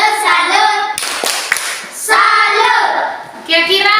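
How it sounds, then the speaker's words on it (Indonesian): A school class performs the rhythmic 'tepuk salut' clap in a classroom, with sharp patterned bursts of hand claps separated by chanting children's voices. "tepuk salut. Salut, salut."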